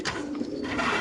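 Grizzle female racer pigeons cooing close by at a pigeon farm, a soft continuous low coo under faint background noise.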